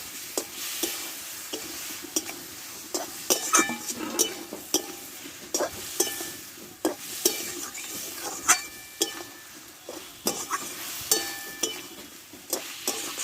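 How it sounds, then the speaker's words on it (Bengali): Mixed vegetables stir-fried with mustard seeds and spices in hot oil for a bitter Bengali curry, a close continuous sizzle broken by frequent rhythmic scrapes and clinks of a spatula against the pan. "এবার আমি সবজিটা দিয়ে দেবো কষা একসঙ্গে আমি নাড়াচাড়া করে নেব"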